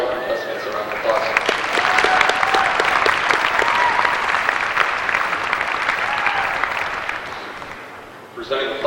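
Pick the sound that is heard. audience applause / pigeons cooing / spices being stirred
audience applause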